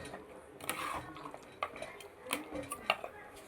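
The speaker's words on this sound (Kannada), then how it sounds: "ಇದನ್ನು ಚೆನ್ನಾಗಿ ಕಲಿಸ್ಕೊಳ್ಳೋಣ." A spoon stirs and scrapes a ground paste of ginger, garlic and tomato in a pot, giving soft, irregular clinks and taps that come close and quiet, with a faint hum underneath.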